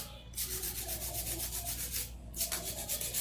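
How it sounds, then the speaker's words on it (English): A hand file rubs across an acrylic nail surface after drill work in a nail salon, giving steady scratchy strokes in a continuous rhythm with one short pause, close up and with no talking. "I'm gonna do a little bit of hand filing"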